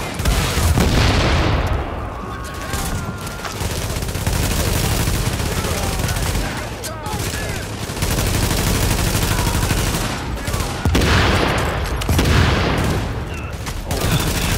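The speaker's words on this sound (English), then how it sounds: "The shotgun just eats their armor." Shotgun blasts and other gunfire fill a hectic video game firefight, loud repeated booms over a dense battle din, with voices talking now and then.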